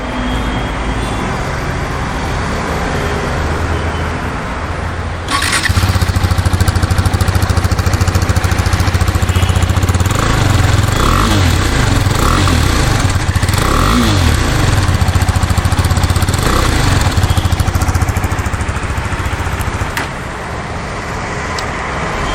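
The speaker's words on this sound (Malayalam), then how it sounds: "അപ്പോൾ ഞാൻ ഈ ബൈക്കിൻ്റെ എക്സോസ്റ്റ് നോട്ട് കേൾപ്പിച്ച് തരാം" A KTM RC 390 motorcycle's exhaust thrums loudly up close, then surges into a sustained rev that holds for several seconds before easing back toward idle, with no one talking.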